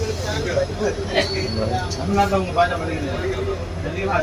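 A passenger train on the Rameswaram–Palani route pulls away from Uchippuli station, its low rumble and rattling wheels rolling on steadily while someone talks over it.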